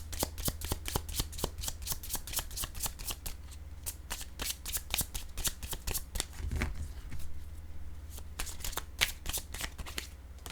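Tarot cards shuffled continuously by hand, a steady run of quick, crisp riffling flutters close up with no voices.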